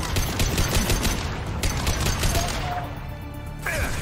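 Rapid bursts of automatic gunfire from the Mass Effect 2 video game, loud and dense for several seconds, then thinning out as electronic tones and effects come through near the end.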